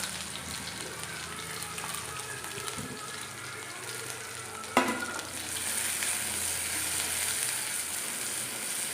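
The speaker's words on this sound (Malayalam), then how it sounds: "അരിഞ്ഞു വെച്ചിരിക്കുന്ന നമ്മുടെ ചെറിയ ഉള്ളി നമുക്ക് അതിനകത്തേക്ക് ഇട്ട് ഒന്ന് മൂപ്പിച്ചെടുക്കാം" Chopped shallots fry in coconut oil in a pan, a continuous close sizzle with a single sharp clink of a utensil partway through and barely any voice.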